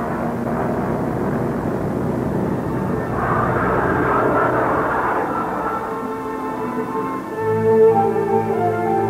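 Propeller-driven photographic survey aircraft of a forestry air division flying, a steady droning engine hum held at close range with a slight swell and shift in tone toward the end.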